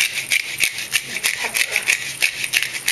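A salt grinder cranked by hand to season chicken for a marinara dish gives off a rapid, even series of close, crisp crunching clicks that repeat steadily throughout.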